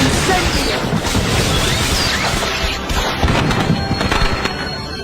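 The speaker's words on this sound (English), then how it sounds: "Professor Slughorn asked me to set these fireworks off to announce his party." Fireworks set off in the Harry Potter and the Half-Blood Prince video game to announce a party at the castle, a dense, loud, continuous wash of crackling bursts and booms lasting throughout, with no clear gaps.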